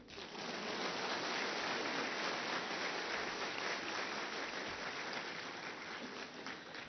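A convocation audience applauds in a broad, continuous wash of clapping that swells quickly and holds steady at a fairly even level before easing slightly toward the end.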